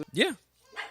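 A cat gives a single short, dog-like bark or yelp close by, followed a moment later by a brief spoken word.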